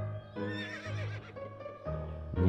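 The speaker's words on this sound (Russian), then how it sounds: "Лошадь." A horse in the video game To the Moon gives a drawn-out whinny with a wavering, tonal pitch, clear and close, broken into a few pulses and followed by a shorter snort-like call.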